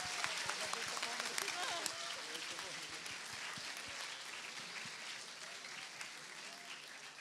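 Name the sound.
audience clapping for women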